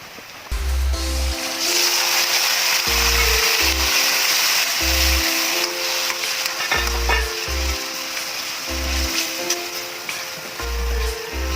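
Marinated pork for igado fries with sautéed onion and garlic in a pan, giving a steady, close, bright sizzle throughout, with background music playing under it.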